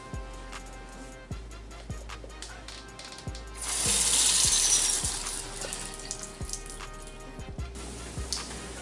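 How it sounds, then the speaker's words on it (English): Hot water runs from a faucet or tub spout, a steady splashing rush that swells loudly for about a second in the middle, with scattered drips and knocks around it. "turn on the hot water either on a faucet or your tub"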